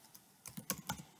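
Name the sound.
typing on a computer keyboard into a browser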